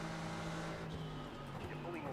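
A simulated race car in iRacing pulls alongside on the left during the Roar Before the 24, a loud, steady engine drone with a sustained low hum and dense broadband roar filling the whole stretch without a clear peak.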